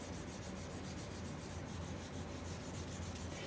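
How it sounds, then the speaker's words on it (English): Aluminum test piece being scuffed by hand before hydro dipping, a steady close rasping rub that runs without a break, quiet and with no talk. "I'm just going to go ahead and scuff it up"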